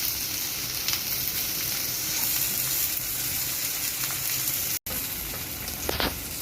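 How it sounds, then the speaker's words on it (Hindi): Onions and green chilies sizzle steadily in a hot pan with garlic-ginger paste for okra (bhindi piyaz), a continuous close hiss with occasional stirring scrapes. "इसको 1 से 2 मिनट तक हम फ्राई कर लेते हैं प्याज़ों के साथ"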